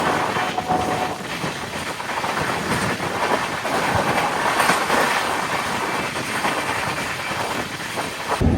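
The Pinakini Super Fast Express runs on rails near Gudur Junction, with a loud, steady rumble of wheels, rhythmic clickety-clack over the joints and a brief squeal, heard close from inside the train.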